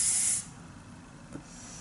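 A close, bright hiss of Pur Minerals Liquid Veil face spray mists out in a single burst lasting under half a second, then gives way to a quiet room with a faint thump.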